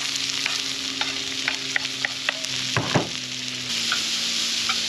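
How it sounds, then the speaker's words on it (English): Vegetables sauté in oil in a camp pan outdoors, a steady broadband sizzle running throughout with small scraping stirs and a brief louder clatter near the middle, close and moderately loud, no talking. "Get the vegetables sauteing in the middle."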